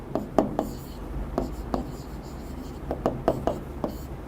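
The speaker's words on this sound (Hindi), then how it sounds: "आंसर पहला लिखता हूं कॉन्वर्स।" A pen scratches out an answer in short, uneven strokes with brief pauses between them, close and fairly quiet over a soft background hiss.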